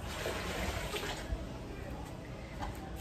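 Water pours from a bucket into a plastic pool being cleaned of green water, a soft steady splashing and trickling with a voice talking over it.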